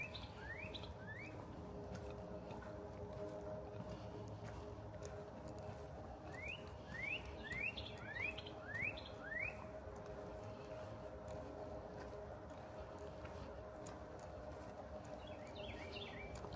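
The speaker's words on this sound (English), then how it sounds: "You can hear the birds chirping." Birds chirp on a nature preserve trail, faint, with a few quick two-note calls early on and a short run of rapid chirps midway over quiet outdoor ambience.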